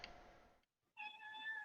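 A cat meows once, a faint tonal cry that follows a brief burst of noise and a moment of near silence.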